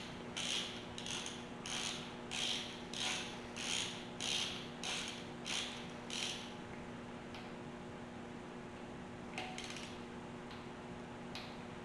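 An inch-pound ratcheting torque wrench clicks rapidly in a run of about ten evenly spaced ratchet strokes on an LS-based 5.3 engine, then goes quiet before two more short clicks near the end.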